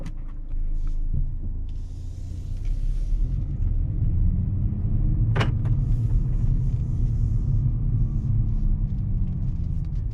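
A 2021 BMW M235i Gran Coupe heard from inside the cabin gives a steady low rumble, with the engine tone swelling and rising as the car accelerates, then settling back.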